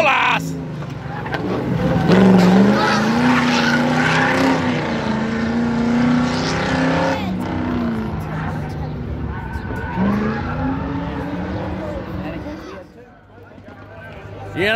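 A race car with anti-lag runs at a sprint event, its engine roaring loudly and rising and falling through gears with crackling bursts, while people talk and shout nearby over the noise.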